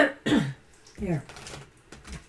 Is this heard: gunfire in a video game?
no